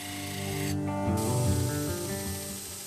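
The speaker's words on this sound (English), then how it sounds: "Clean corrosion and debris from the garden shears using a brass wheel." A brass wire wheel scrubs corrosion and debris off disassembled garden shears, giving a close, continuous spraying rasp with a steady machine hum underneath and a brief change in tone partway through.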